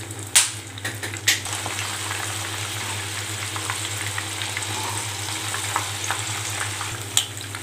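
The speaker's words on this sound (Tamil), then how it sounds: "கொஞ்சம் கொஞ்சமாக நம்ம வந்து ஃப்ரை பண்ணி எடுத்துக்கலாங்க" Prawns fry in a pan with a continuous close sizzle and bubbling, punctuated by a few sharp clinks of utensils, loudest at the opening and near the end.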